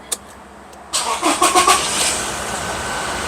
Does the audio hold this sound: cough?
no